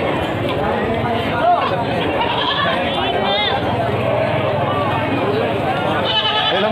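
Goats bleat intermittently at a busy livestock market in Munjungan, their calls rising over constant crowd chatter and people talking nearby.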